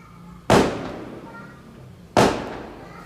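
Firecrackers burst outdoors in two loud, sharp bangs about a second and a half apart, each trailing off in a rumbling decay, heard from nearby.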